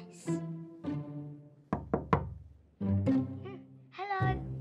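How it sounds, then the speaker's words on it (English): Cartoon knocking on a wall in a new house bedroom at night: a quick cluster of sharp knocks between bursts of tonal voices. "What's all that knocking I can hear?"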